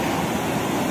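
Floodwater of the swollen Rio Salgado in Aurora, Ceará rushing past in a steady, loud, broadband roar that fills the whole moment without pause, with no voices.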